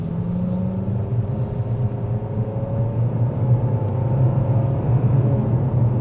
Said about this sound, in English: I'm hearing a decent amount of road noise